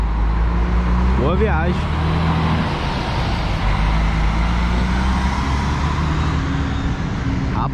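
Buses pull out of the Tietê bus terminal in São Paulo, giving a steady, loud diesel rumble with passing engine noise throughout, while someone talks over it.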